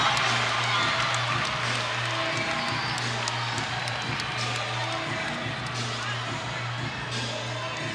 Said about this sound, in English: Now we do see that the crowd started to get really into that play